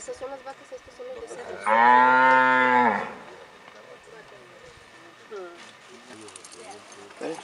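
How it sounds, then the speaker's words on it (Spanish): Cows on a Jalisco farm in Mexico, with one long, loud moo rising close by over background chatter and voices. "Esas son las vacas"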